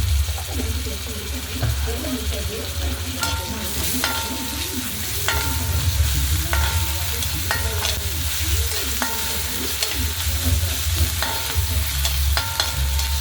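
Ginger garlic paste sizzles and fries steadily in a pan while it is being made into pani puri, with scraping stirs and occasional clinks layered over a constant low hum, close and continuous.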